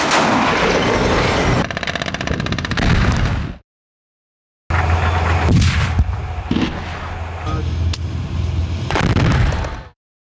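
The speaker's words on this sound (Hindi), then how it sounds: "इसमें आप देख सकते हैं कैसे गाजा सिटी सेंटर में इजराइल की सेना हमास के लड़ाकों पर गोले बरसा रही है" Heavy artillery shelling by the Israeli army against Hamas fighters in Gaza City: loud, continuous booming and gunfire bursts in two long stretches with a brief silent gap between them, no talk.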